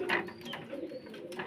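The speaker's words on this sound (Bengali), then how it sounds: "একটা মাদি কবুতর আছে" A female yellow Lahori pigeon coos in a low, throaty, rolling run that carries close and steady for the whole short stretch, with faint higher chirps drifting in the background.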